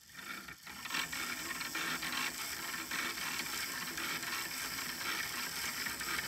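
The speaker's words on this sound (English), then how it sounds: "this is the driver gear because it has an electric motor driving it" Small fischertechnik electric motor turning plastic gears, a steady close-up mechanical whir with fine ratcheting clicks running continuously throughout.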